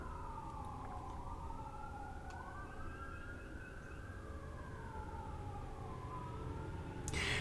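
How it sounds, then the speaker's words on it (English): A wailing siren rises and falls steadily in the distance over a low background hum, sounding far off and moderately faint. "I'm noticing that the sirens are going off in the background"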